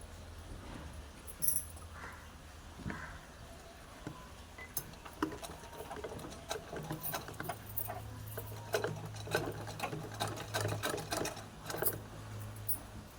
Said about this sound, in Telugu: ఈ మిషన్ కుట్టి ఎలా వేయాలన్నది నేను క్లాస్లో అయితే చెప్తాను